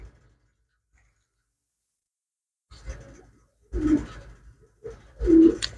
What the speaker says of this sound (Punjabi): ਜੀ ਕਰੋ ਚੈੱਕ ਅਗਲਾ ਕਬੂਤਰ